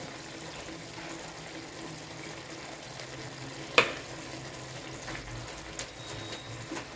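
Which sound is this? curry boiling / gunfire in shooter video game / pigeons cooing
curry boiling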